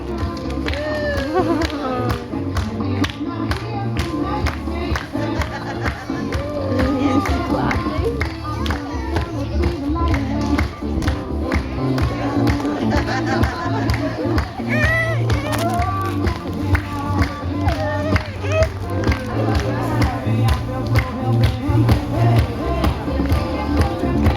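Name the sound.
audience clapping along to a song at an aquarium show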